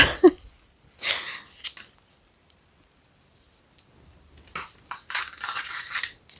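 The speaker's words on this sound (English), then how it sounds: "all I'm going to do now is cut out these little shapes" Scissors cut little shapes out of paper in a Halloween Dollar Tree craft, heard as a few close, crisp snips and crunches separated by quiet pauses.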